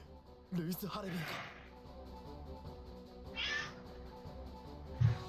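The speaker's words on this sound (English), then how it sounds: "Yep, you heard a kitty." Ellie, a pet cat, gives a short meow early on, mixed into a bed of video game music and dialogue that continues throughout.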